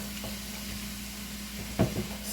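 Ground beef sizzles steadily in a hot pan, a continuous close hiss over a low hum, with a brief clatter near the end.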